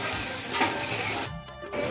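Khichuri bubbles and sizzles in a large wok with a steady, dense crackle, and stirring scrapes break through about two thirds of the way in.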